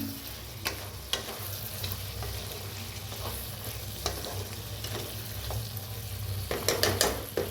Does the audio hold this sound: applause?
no